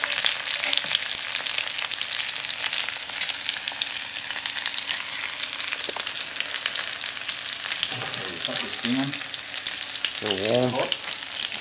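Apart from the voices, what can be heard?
onions frying on a survival stove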